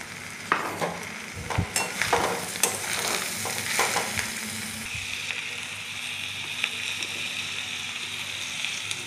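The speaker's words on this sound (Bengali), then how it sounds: "এবার আমি দিয়ে দেবো জল ঝরানো ডালটা।" Drained lentils go into a hot pan for bhuna khichuri and are stirred and fried, giving a steady sizzle with intermittent scraping and clacking stir strokes, louder early and settling into a continuous fry.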